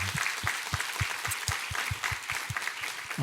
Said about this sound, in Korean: 하나님께 우리 감사와 영광의 박수 올려드리도록 하겠습니다.